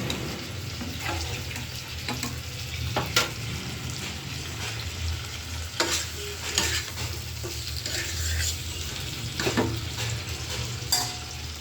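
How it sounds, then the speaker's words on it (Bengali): Cauliflower and potatoes sautéing in a pan, a constant loud sizzle broken by repeated scraping stirs of a spatula at an uneven pace, close and without voices. "কফি আলুগুলো কষাইতে দিয়ে দিয়েছিলাম। এদিকে কফি আলুগুলো প্রায় আমার কষানো হয়ে গেছে।"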